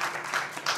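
Wedding guests applaud the bride in a short, dense burst of clapping that fills the room at steady loudness for under a second.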